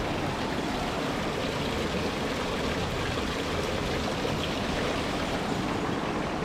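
Steady rushing of flowing spring water at the Blue Eye Spring near Saranda, Albania fills the scene, a continuous broadband wash without pauses, moderately loud and unbroken.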